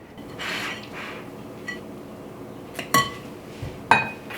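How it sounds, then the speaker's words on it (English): Spatula scraping around a mixing bowl of gluten-free chocolate muddie batter with brown sugar, soft scrapes followed by a few sharp clinks and taps against the bowl, close and moderately loud, no talking. "mix this around. Scrape down your bowl."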